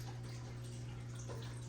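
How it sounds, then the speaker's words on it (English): Aquarium water draining out during a partial water change, a steady broad rushing flow with a constant low hum underneath, close and continuous with no talking. "Do it fast because water drains fast."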